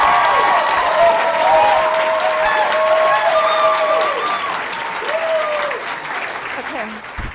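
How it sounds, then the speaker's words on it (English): An audience at a school board meeting applauds, a dense burst of clapping that stays loud for several seconds and then thins out, with voices calling out over it. "if we're applauding, it's going to take up our time"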